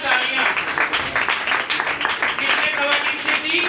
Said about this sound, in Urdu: بچیوں کے لیے زوردار تالیاں، زوردار تالیاں